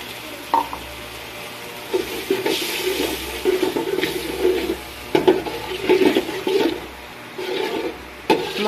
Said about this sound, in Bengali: সামান্য পানি দিয়ে দেবো।